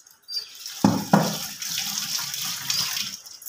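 Pieces of bhola fish are rinsed under a running tap, a steady splashing stream of water with a couple of louder gushes near the start, close by and with no talk over it.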